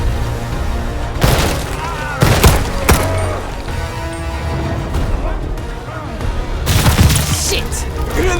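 Grenade blast and bursts of gunfire in the World War II shooter Call of Duty: Vanguard, with heavy booms and crackling shots over a tense orchestral score, loud and close, while voices shout amid the combat.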